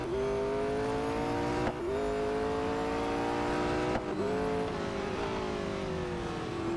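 A McLaren 765LT in the racing game Real Racing 3 roars at high revs without pause, its engine note climbing and falling through gear shifts, loud and steady with no talking.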